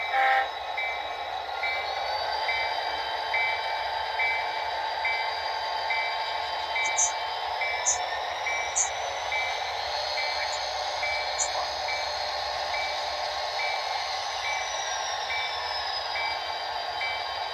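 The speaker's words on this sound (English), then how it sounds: "Today we're gonna start off with the NS 5301 as it pulls up onto the storage track" The NS 5301 locomotive moves slowly along a storage track pulling an empty nitrogen tanker, giving a steady rumbling drone with a sustained horn-like tone and a few squeals, heard from a moderate distance.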